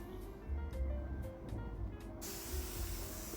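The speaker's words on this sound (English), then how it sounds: "we move on to apply some steam onto this whole thing so that it lies quite flat" Low muffled handling thumps give way to a sudden steady hiss as steam is sprayed onto padded corset fabric to flatten it, the spray continuing loudly to the end.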